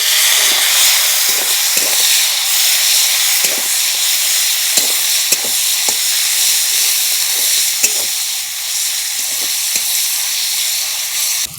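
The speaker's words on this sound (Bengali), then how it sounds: "তেলের মধ্যে দিয়ে দিলাম। এবার কুচনো টমেটো আর কুচনো পেঁয়াজটা দিয়ে দেবো।" Crushed cardamom, cinnamon and cloves fry in hot oil with chopped tomato and onion: a loud, steady sizzle runs throughout, broken by scattered soft clicks of stirring.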